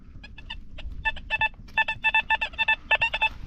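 A metal detector sweeps ground where an old inn once stood, giving repeated short, high beeping tones in quick uneven bursts that grow more regular, over a low outdoor rumble with no talk.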